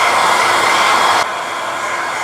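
Loud, steady blowing roar of a hair dryer heating a rubber part during customisation work on a Tesla Model 3 SR+, dropping to a slightly lower setting halfway through and running continuously.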